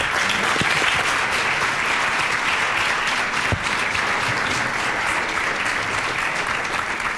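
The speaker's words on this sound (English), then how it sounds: "That's what the applause were for" Audience applause following a lecture on gifted education, a dense, steady clapping from a full room that holds at an even level throughout, close and loud, with one brief louder knock partway through.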